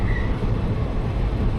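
Steady low rumble of a train at Manamadurai junction, heard from aboard the Ramanathapuram to Tambaram bi-weekly express with LHB coaches, with a continuous dense hum and no distinct clanks.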